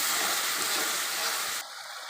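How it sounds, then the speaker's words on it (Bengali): Spiced meat masala stirred with a spatula in a pan after a little water is added, a loud steamy hiss and sizzle that cuts off abruptly to a faint background hum. "দিয়ে এরকম খুন্তি দিয়ে নেড়ে নেব।"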